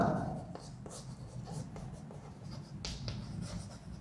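Chalk or marker writing on a classroom board during a time-calculation lesson, with faint scratchy strokes and small taps in an echoing room, under low background noise and no clear talking.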